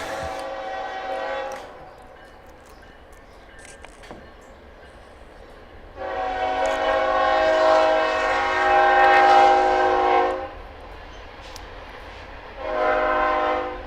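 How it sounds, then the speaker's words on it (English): A train approaches and passes with repeated loud horn blasts, two shorter calls, then a long sustained blare, and a final shorter blast over a low rumbling background. "Incoming train."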